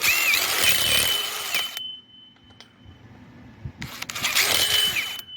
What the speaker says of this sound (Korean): 이렇게 대고 구멍을 뚫으면 미끄러집니다.